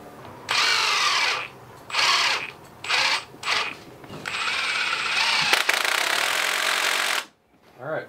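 An impact wrench tightening an AN fitting on a power steering line fires in several loud, close bursts with short gaps, then runs in one long sustained hammering stretch before stopping.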